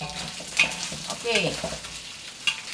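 Roast pork is stir-fried in a hot wok for longevity noodles, with a brisk sizzle and sharp scraping stirs, while someone speaks briefly over it.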